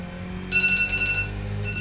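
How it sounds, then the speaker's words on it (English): Phone alarm ringing during an iRacing Skip Barber race at Interlagos, a high repeating electronic beep pattern that starts halfway through over a steady low engine drone from the sim car. "Had an alarm set on my phone that I'm gonna have to try to turn off on the straight"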